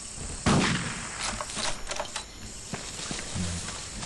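Gunfire in the Vietnam War shooter Vietcong: a sharp shot cracks out, then several scattered fainter shots and mechanical clicks follow at irregular intervals.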